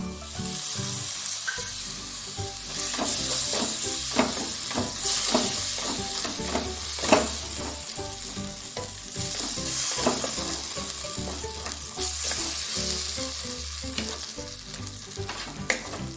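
Fried fenugreek leaves stirred into a sizzling pan for garlic methi curry: continuous frying crackle with repeated scraping stirs and spoon knocks throughout, no talk.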